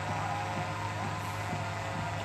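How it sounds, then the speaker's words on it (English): A police drone flies overhead at a night protest standoff on a bridge at Standing Rock, a continuous low hum with a faint steady whine that holds constant behind a murmur of distant activity. "The noise you hear above is a drone."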